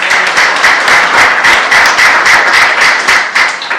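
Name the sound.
congregation clapping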